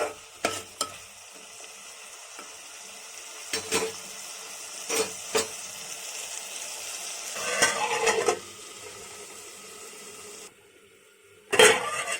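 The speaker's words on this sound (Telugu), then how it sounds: "ఐదు నిమిషాలు ఇలా వేగిందండి బీరకాయలు" Sliced ridge gourd frying in a pan, with a low steady sizzle beneath scattered stirring scrapes and the clink of a utensil against the pot, followed by a brief pause and then a sharp clatter near the end.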